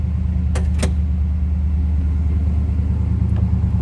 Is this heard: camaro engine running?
yes